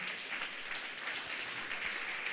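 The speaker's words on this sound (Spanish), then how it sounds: "Dele palmas de alabanza" A church congregation claps in praise during a service, a dense, steady wash of many hands applauding together, close and loud, with no talk over it.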